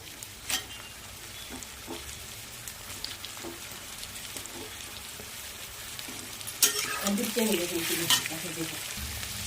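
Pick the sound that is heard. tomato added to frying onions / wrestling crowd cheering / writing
tomato added to frying onions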